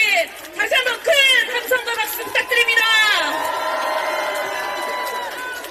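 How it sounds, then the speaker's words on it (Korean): A crowd at an election-eve campaign rally in Yongsan cheers and shouts loudly, with whoops and a voice booming over the noise before settling into sustained roaring applause. "우리 최고위원 정청래 의원님을 다시 한번 큰 함성과 박수 부탁드립니다"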